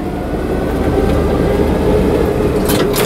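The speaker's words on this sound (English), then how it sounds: "Boy, that engine sounds good." A 4WD vehicle's engine runs steadily while driving through heavy snow, a loud, constant low drone with a faint tonal hum, heard from inside the cab without talk.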